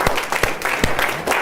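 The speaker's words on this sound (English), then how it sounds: "Let's give Yale a big round of applause" A keynote audience breaks into applause, a dense continuous roar of many hands clapping, loud and close.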